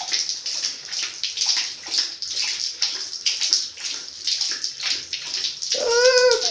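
A St. Bernard dog laps water in quick, steady, close splashy licks that continue for several seconds, ending with a brief higher sound.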